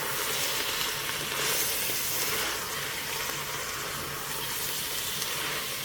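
Chopped onions fry in a pan for spinach and cassava leaf cooking, giving a steady, even sizzle and hiss that carries through without pause, close and moderately loud, with no talking.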